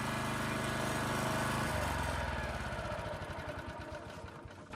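A Honda HR214 self-propelled lawn mower engine runs steadily and loudly nearby, then its tone shifts into a choppier, pulsing idle as it slows.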